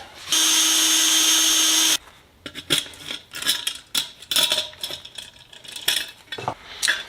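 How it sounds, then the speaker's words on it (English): A power drill whines steadily for about two seconds, drilling a hole up to 1/8 inch in aircraft sheet metal, then stops, followed by scattered metallic clinks and taps of tools and parts. "Go ahead and drill this up to 1/8 inch."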